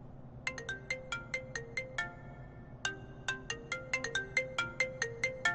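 Mobile phone ringtone playing a bright repeating melody of plinked tones, loud and close, in two phrases separated by a short pause, over a low background hum in a drama scene.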